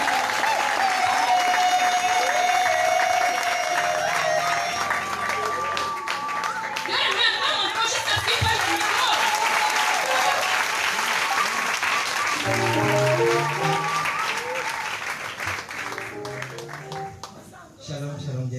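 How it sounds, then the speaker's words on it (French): A church congregation greets an arriving preacher with sustained applause and cheering, a steady wash of clapping under an amplified voice and background music that fades near the end. "Est-ce que tu peux acclamer pour le serviteur de Dieu qui vient?"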